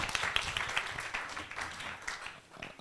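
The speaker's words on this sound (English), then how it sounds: "please let's give her a round of applause" A round of applause at a live-streamed event, heard as scattered hand claps of moderate, somewhat uneven loudness from a small crowd, sustained throughout.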